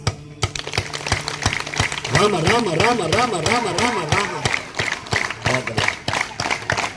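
A crowd claps hands in steady repeated beats during an International Yoga Day session, the sharp claps running through the whole passage while voices chant together over them.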